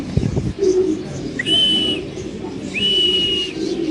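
A white Spanish King pigeon at a pigeon farm gives low, steady coos close by, with two sustained whistle-like tones above and no talking.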